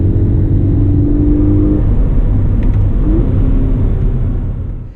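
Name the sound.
automatic 2016 Scion FR-S engine while driving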